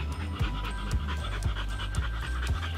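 An American Bulldog pants in quick, rhythmic breaths, close and fairly quiet, with regular bursts repeating about twice a second and no talking.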